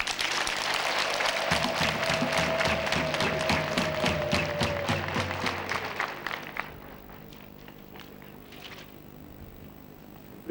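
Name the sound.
crowd applause at ceremony in Kabgayi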